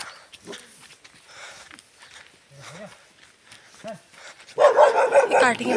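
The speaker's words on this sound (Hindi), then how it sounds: "काफ़ी ज़्यादा कुत्ते हैं यहाँ पे" Dogs bark and yip several times at some distance, with people talking nearby and a burst of louder noise at the end.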